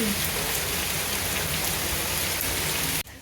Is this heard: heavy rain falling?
yes